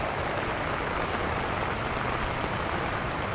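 Steady rain hisses continuously, a soft even wash of falling drops at moderate distance with no other sounds standing out.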